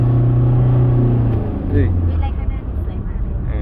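A car engine strains and revs loudly at close range while climbing a steep road past tea plantations near the Myanmar border in Ban Phaya Phrai, under steady in-car talk.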